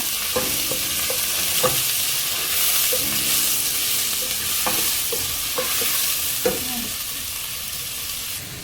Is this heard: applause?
no